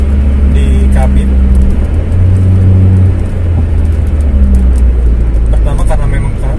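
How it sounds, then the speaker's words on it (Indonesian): A steady low engine drone fills the cabin of a Nissan March running an ORD full exhaust system, a loud rumbling hum that persists throughout with slight shifts in pitch. "Suara dengung di kabin."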